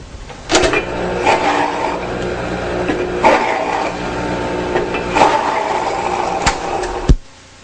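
Raw apple ground in a kitchen machine, giving a loud, steady motor whir with rhythmic surges about every two seconds and a sharp clatter just before it stops.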